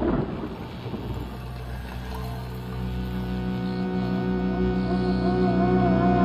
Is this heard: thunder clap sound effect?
yes